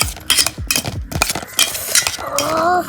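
A spoon stirs and scrapes through mango masala in a bowl, making repeated close clinks and knocks against the sides in an uneven rhythm, followed by a short stretch of softer scraping.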